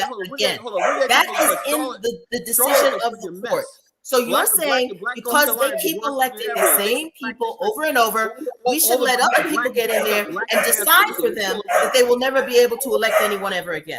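Dogs bark and yip intermittently in the background beneath continuous, close conversational speech from someone talking over them.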